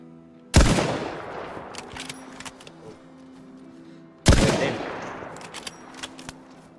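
An SV-98 sniper rifle fires in the video game DayZ on the Namalsk map: two loud, sharp shots about four seconds apart, each followed by a long rolling echo that fades out.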